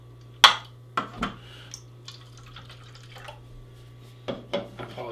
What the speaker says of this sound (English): apologize for the heavy pour